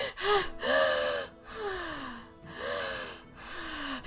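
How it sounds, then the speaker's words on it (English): Audible breaths close to a microphone, alternating between sharp inhales and drawn-out exhales in a slow repeating rhythm, loud and intimate, with no talking. "I'll breathe again"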